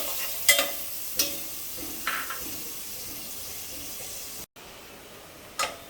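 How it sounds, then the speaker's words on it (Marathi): Onions frying in hot oil with a faint hiss, broken by a few sharp spoon scrapes and clacks against the pan as they are stirred, plus one short silent gap. "यामध्ये मी कांदा घालते आणि कांदा मस्त एकदम ब्राऊन होईपर्यंत आपल्याला शिजवून घ्यायचं आहे तेलामध्ये"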